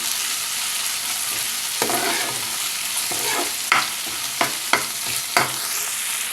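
Finely chopped carrot and tomato pieces sauté in a pan with a loud, continuous sizzle close up, cut by several sharp utensil scrapes and taps near the end, with no talking.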